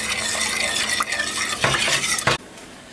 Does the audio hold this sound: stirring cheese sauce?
yes